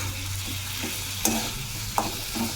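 Taro pieces fry in oil for a fish curry, giving a low steady sizzle with a few sharp clinks of a spoon against the pan.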